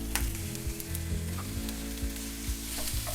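Finely chopped onions fry in hot oil, a steady close sizzle with a few soft scraping stirs and knocks, no voices.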